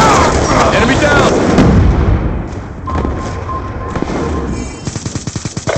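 Hellstorm missile strike explosions in Black Ops II: a loud, rumbling blast fills the first two seconds, then quieter debris and game noise follow, ending in a rapid run of sharp gunfire-like thumps.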